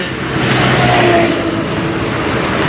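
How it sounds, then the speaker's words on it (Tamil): A TVS XL moped engine running, a steady close buzzing drone with a slight rise in revs early on, then holding an even idle-like note to the end. "ஸ்டார்ட் ஆகிடுச்சு வண்டி ஓடிட்டு இருக்குங்க"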